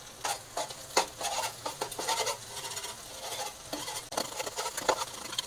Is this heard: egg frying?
yes